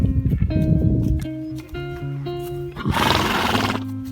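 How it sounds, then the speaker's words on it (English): A horse about to be ridden gives loud, close, drawn-out whinnies in several pitched bursts, followed by a harsh, breathy snort near the end. "I'm gonna go on that horse ride now"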